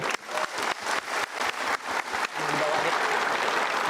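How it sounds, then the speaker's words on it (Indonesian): An audience at a motivational seminar gives rhythmic clapping that settles into sustained, steady applause filling the hall. "kita berikan tepuk tangan"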